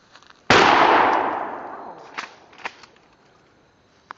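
A Mossberg Maverick 88 shotgun fires a single loud, close blast of 4-shot double-aught buckshot, with a sharp crack followed by a decaying echo and a few faint clicks afterward.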